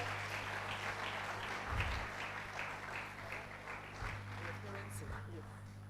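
Sustained applause from a nursing induction ceremony audience for a graduate, a dense, even clapping texture over a low hum, with a voice faintly present in the mix.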